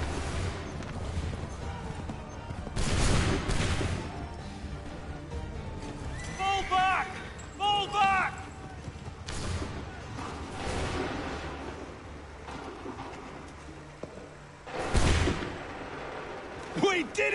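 Gunfire volley in Assassin's Creed 3, a couple of loud booming bursts of massed musket fire amid battlefield noise, with shouted commands and voices throughout.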